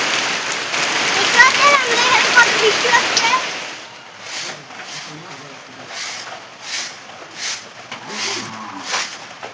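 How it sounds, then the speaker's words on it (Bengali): Heavy rain falls steadily at first, then fades as intermittent talking takes over, with patches of rain noise lingering in the background. "প্রচুর বৃষ্টি হচ্ছে চারপাশে"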